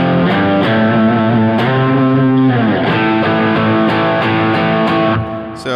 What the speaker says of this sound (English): there's a cool like octave thing that sounds like this